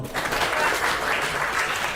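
A brief burst of audience applause at a computer and informatics teaching performance test event, steady clapping from a group heard fairly close with faint voices underneath.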